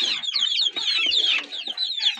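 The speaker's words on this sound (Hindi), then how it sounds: "सोनाली मुर्गी के बच्चे हैं जी" High-pitched peeping and chirping from a group of young Sonali chicken chicks, continuous and overlapping, fairly close, with soft scratchy movement beneath.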